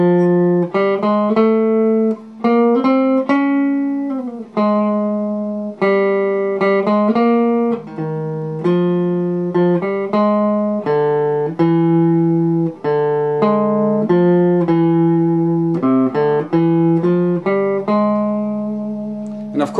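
An electric guitar plays the solo from a song slowly, one sustained note after another in a continuous melodic line that is loud and close with no talking.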